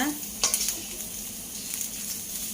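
Fresh chillies roast in a pan while a soft, steady hiss runs throughout, with a few brief utensil clinks and scrapes near the start.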